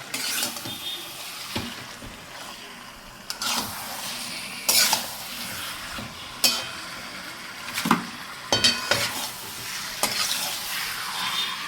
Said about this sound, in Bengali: চলো এবার মাংসগুলো দিয়ে দিই, দিয়ে ভালো করে আবার কষাতে হবে।